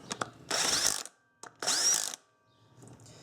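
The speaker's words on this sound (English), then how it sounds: "take the 10mm socket and put it back onto the cordless impact" Two short bursts from a cordless impact driver spinning a 10mm socket during a 2005 Honda Odyssey power steering pump install, each lasting about half a second, loud and close, with small clicks between them.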